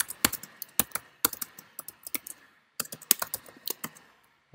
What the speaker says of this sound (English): and then type